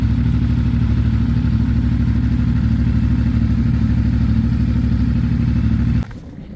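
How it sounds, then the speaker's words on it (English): A CFMoto 450MT motorcycle engine runs steadily and loud from close by, a constant mid-pitched drone that cuts off abruptly near the end. "So now we start riding this motorcycle"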